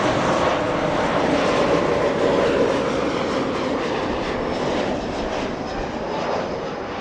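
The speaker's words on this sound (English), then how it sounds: "Okay, so we had Air Canada 556 land a few seconds ago" An Air Canada airliner landing at Los Angeles International Airport gives a steady, broad jet roar with a loud rumble that stays even before easing slightly, heard alone without voices.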